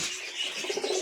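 A pigeon gives a short, soft coo near the end of a brief, quiet moment, low and murmuring against faint background hiss.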